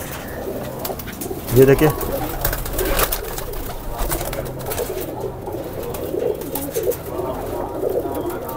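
Highflyer pigeons at a rooftop loft setup coo softly in the background while someone talks over them, with a brief louder burst of bird sound early on.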